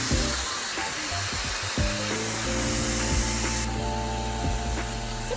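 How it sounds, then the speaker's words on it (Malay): A Dreame hair dryer blows steadily on hair at close range, a loud continuous airy whoosh with a tonal motor hum that shifts pitch partway through as the setting changes. "Kita keringkan rambut dia sekarang."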